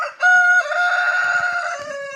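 A rooster gives one loud, close crow that holds steady for about two seconds, with no talking around it.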